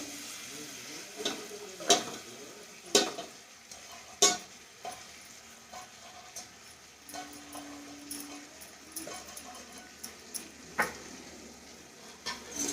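Pulihora lemon rice being mixed in a pan with turmeric, salt and lemon juice, quiet scraping and stirring punctuated by several sharp clinks of a utensil against the pan over a low sizzle.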